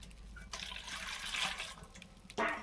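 Eggs are rinsed by hand in water before boiling, with splashing and sloshing swirling in bursts, quiet and close, ending in a sharper splash.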